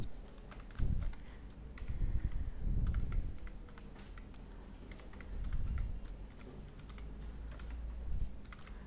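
Steady typing on a computer keyboard while PL/SQL code is entered, with quick irregular key clicks and a few heavier thumps continuing throughout at close range with no talk.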